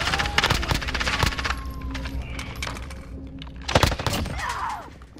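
Gunfire in Call of Duty Warzone, with rapid bursts of shots in two clusters and lighter scattered clicks and clatter between them, heard near and moderately loud amid game ambience.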